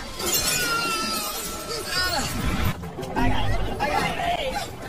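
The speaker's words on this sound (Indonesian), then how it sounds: "dia berhasil meraih Sarah tepat saat kacanya pecah" A glass pane shatters in a film scene from Jurassic Park 2: a sudden crash and breaking burst midway, set among voices, chatter and dramatic soundtrack noise.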